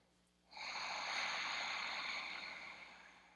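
A long, steady breath held in a yoga posture, a deep airy exhale that swells quickly, sustains for several seconds and slowly fades, close and alone.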